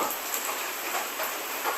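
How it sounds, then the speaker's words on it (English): Steady rain falls over an open field, a soft even hiss with no voices, moderately quiet throughout. "now it has been raining"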